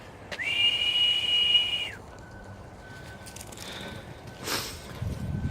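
A single sustained whistled tone, steady and fairly loud for under two seconds, followed by quiet outdoor ambience with faint scuffs and a brief hiss.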